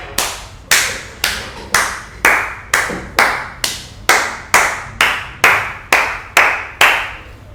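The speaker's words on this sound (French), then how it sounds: "pourquoi il applaudit en fait les gars?" A single person clapping slowly and steadily, about fourteen sharp, evenly spaced hand claps at roughly two per second, close and distinct with short ringing tails, with no voices over them.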